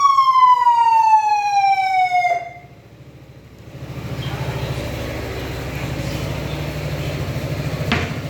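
A police siren fitted to a Yamaha Tricity scooter wails and sweeps downward, then cuts off, leaving a low steady background rumble with a brief knock near the end.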